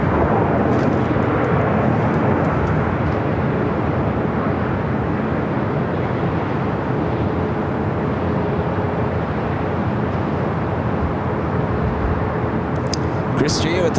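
A WestJet Boeing 737 MAX 9 departs LAX bound for Calgary, producing a steady, unbroken broadband jet roar that holds at an even level from start to finish.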